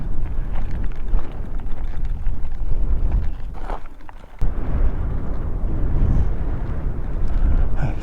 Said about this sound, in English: It's definitely a bit windy up here.